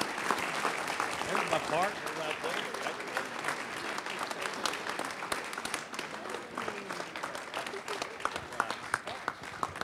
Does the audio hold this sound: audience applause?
yes